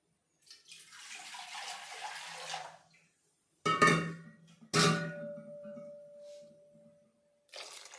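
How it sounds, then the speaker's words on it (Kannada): Water pours steadily into a pot of mutton curry for a couple of seconds, then a few close clanks of metal cookware follow, one leaving a brief ringing tone, with no talk. "ನಾನು ಇನ್ನೂ ಸ್ವಲ್ಪ ನೀರು ಸೇರಿಸ್ತೀನಿ."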